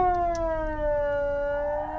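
A fixed civil defense alarm siren during a Swiss federal siren test wails in a sustained, slowly falling tone with strong harmonics, heard alone and at a fairly loud, slightly distant level.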